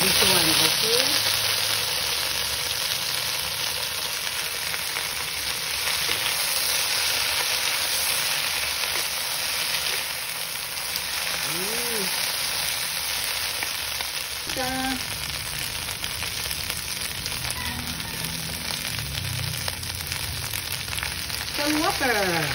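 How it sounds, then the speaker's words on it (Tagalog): Garlic sautéing in a pan hisses and crackles in a continuous, close, fairly loud sizzle throughout, with occasional stirring scrapes and brief faint voices in the background. "saute the garlic"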